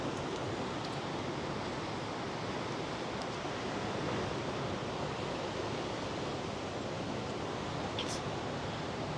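Steady ocean surf rolls continuously at an ocean shore, a dense broadband wash with no breaks, fairly loud and close, with no voices over it.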